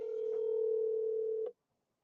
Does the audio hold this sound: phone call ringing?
yes